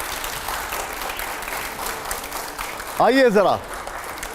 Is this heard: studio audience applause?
yes